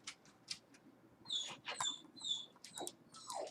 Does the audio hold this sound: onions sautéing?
no